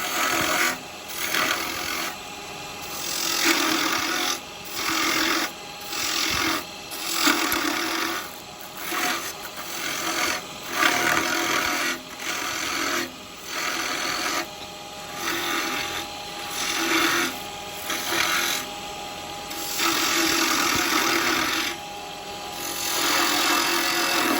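Wood spinning on a lathe is cut by carbide turning tools while a spinning top is shaped, a close, rough scraping hiss that swells and eases in repeated passes over a steady motor hum.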